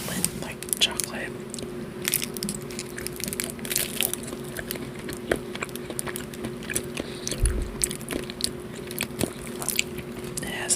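Bites and soft chewing of a small Lindt milk chocolate with a smooth center, close and crisp in a quiet setting, with faint whispered talk running alongside.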